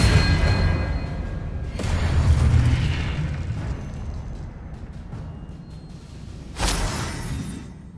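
A spell cast in the Hogwarts Legacy video game sends out a burst of magic. The burst is a broad whooshing, booming blast, with a swell near the start and a sharp flare late, over rumbling game ambience.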